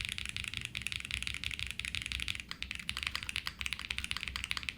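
Rapid, continuous clacking keystrokes on a custom mechanical keyboard, close and fairly soft, with a brief lull midway before the dense typing resumes.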